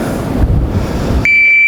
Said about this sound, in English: And with the shot timer, of course.